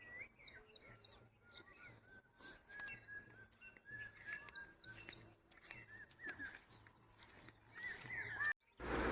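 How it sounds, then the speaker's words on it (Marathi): Birds chirp and call repeatedly on a farm in the morning, bright overlapping tweets at moderate distance, with faint insect buzzing in the background and a brief disturbance near the end. "पक्ष्यांची किलकिल असायची"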